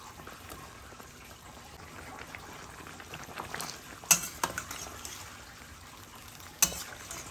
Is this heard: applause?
no